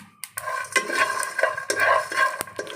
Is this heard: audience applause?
no